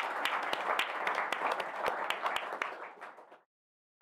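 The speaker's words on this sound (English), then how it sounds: "So a huge round of applause for them as well." A conference audience at an Angular developer talk applauds the event organizers, the dense clapping holding steady before it thins and stops abruptly, with a sharp sound right at the end.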